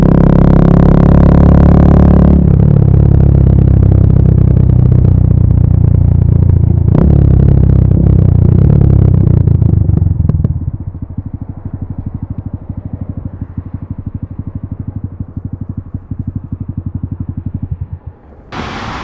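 A Honda MSX 125 motorcycle engine is heard while riding, first loud and revving, then dropping to a steadier lower throb after a shift, with a sharp burst near the end.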